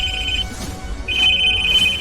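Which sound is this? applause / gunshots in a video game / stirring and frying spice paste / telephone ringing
telephone ringing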